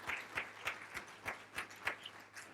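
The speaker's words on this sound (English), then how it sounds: "a round of applause" Scattered applause from a small audience following an opening speech at a university equal-opportunities event, modest rhythmic claps at a moderate distance, brief and fairly faint.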